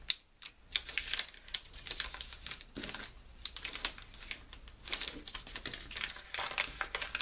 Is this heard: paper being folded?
yes